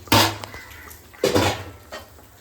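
Soaked basmati rice stirred in a metal pot for chicken biryani: two loud scraping clatters of spoon against pot, then a softer third scrape, with quiet kitchen background between.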